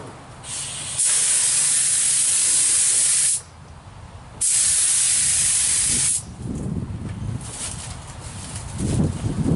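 A spray gun lays a thin first paint coat on a car fender, with two loud, steady hissing bursts of about two seconds each, then quieter rustling handling noise.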